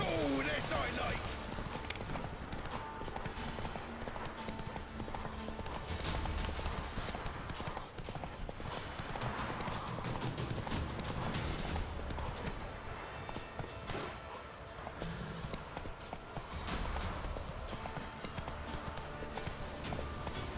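Roach the horse in The Witcher 3 video game, hooves clip-clopping steadily throughout amid game ambience and music, while a voice talks over it.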